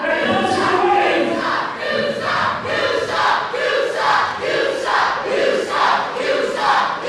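A wrestling crowd roars and chants in loud, rhythmic surges during an NWA Cyberspace Wrestling Federation gauntlet match, with swelling cheers rising and falling steadily.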